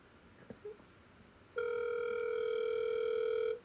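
A single long ringback tone from a telephone on an outgoing call, steady and clear for about two seconds after a couple of faint clicks.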